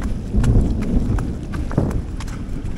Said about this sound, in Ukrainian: Ще й грім почався.